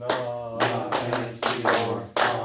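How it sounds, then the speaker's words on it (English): During a vocal warm-up coaching session, a singer claps out a rhythm with their hands while speaking song lyrics, about half a dozen sharp claps spaced unevenly under a steady voice. "can you speak that while you clap it?"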